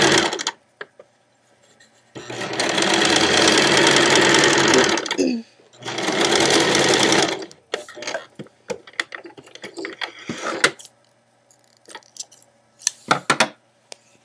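Sewing machine stitching shirring with elastic thread, two loud steady whirring runs of rapid stitching separated by a pause, followed by scattered clicks and handling noises.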